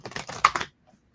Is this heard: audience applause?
no